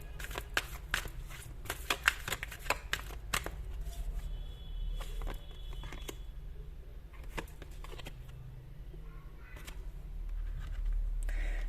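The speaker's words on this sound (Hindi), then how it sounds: "एक कार्ड निकालते हैं प्रॉस्पेरिटी के नाम एंड लेट्स सी क्या निकल कर आता है।" A tarot card is drawn from a deck: a quick run of crisp card snaps and riffles at first, then quieter handling against a steady low room hum.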